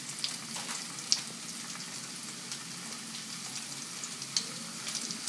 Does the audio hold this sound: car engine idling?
no